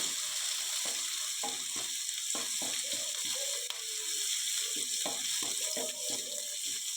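Garlic cloves and onion sautéing in oil for a broad bean and eggplant dish, a faint frying hiss beneath repeated clattering scrapes and knocks of a spatula against the pan.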